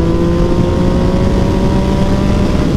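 A Yamaha MT-09 motorcycle with a full exhaust at wide open throttle in fifth gear: a loud, steady, close engine roar that holds constant with no talking.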